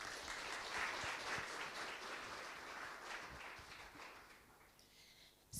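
Audience applause for conference speakers at a session on disinformation in Russia's war in Ukraine, a steady crowd clapping that holds for several seconds and gradually thins toward the end.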